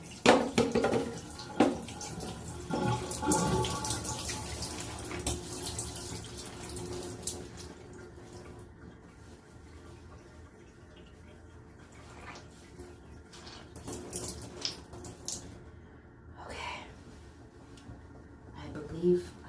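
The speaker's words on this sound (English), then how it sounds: "The water is running clear" Water running from a tap while sisterlocks hair is rinsed, a steady splashing stream that is louder at first and then softer, with a few brief spikes near the end.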